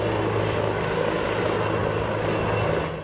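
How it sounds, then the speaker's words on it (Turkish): A TUSAŞ T-129 ATAK attack helicopter gives off a loud, steady turbine-and-rotor drone that holds unbroken for the whole stretch, with no voices. "Bunun son örneği Atak helikopteri."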